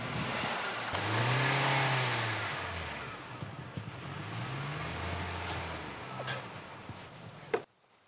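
Engine of a rental car stuck in New Zealand backcountry, revving in a couple of long rising and falling surges at moderate distance, with faint knocks and clicks, ending abruptly.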